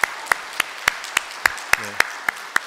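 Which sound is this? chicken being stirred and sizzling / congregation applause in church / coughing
congregation applause in church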